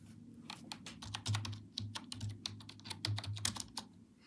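An Aadhaar card number is keyed into a computer, with quick, quiet, irregular keystrokes clicking close by over a faint low hum.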